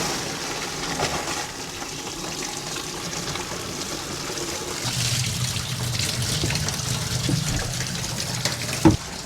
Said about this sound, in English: I put this on here so that I could run some water in here.